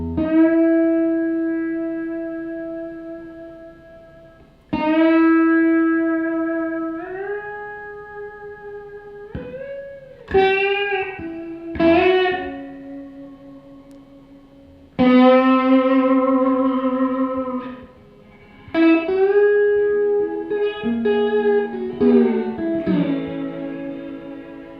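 An electric slide guitar, treated with distortion and reverb, plays sustained, ringing notes with slides between pitches and little vibrato, each phrase decaying slowly and played alone.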